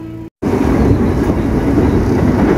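KRL Commuter Line electric train running on its rails toward Tanjung Priok, a steady loud rumble of the carriage after a brief cutout near the start, heard from inside with no talking.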